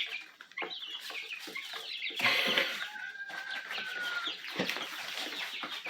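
Chicks crowded together in a brooder give a dense, continuous chorus of overlapping peeps and chirps, close and fairly loud, with no voices.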